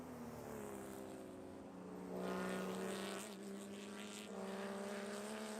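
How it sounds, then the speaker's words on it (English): Porsche Cup race cars drive around the Buttonwillow track, their engines blending into a steady, distant droning hum that swells slightly as the cars pass through the corners. "As you see the cars making their way around Sunrise."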